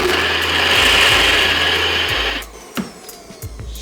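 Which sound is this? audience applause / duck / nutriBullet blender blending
nutriBullet blender blending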